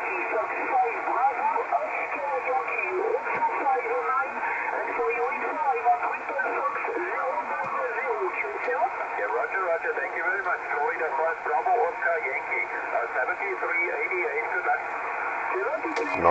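An amateur radio signal comes in on the 40 meter band through a dipole antenna, a steady stretch of band-limited, hissy transmitted speech with constant background noise throughout.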